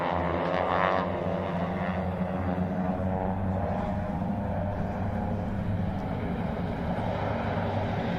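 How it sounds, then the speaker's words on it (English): A T6 Texan (SNJ) propeller airplane makes a photo pass at the SUN 'n FUN 2021 airshow, its engine droning steadily with a rough, throbbing tone that swells slightly early on and then holds at a moderate distance. "You get a good opportunity to get a look at the bottom side of the T6 Texan or the SNJ."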